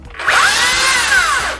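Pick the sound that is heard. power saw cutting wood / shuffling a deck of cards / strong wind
power saw cutting wood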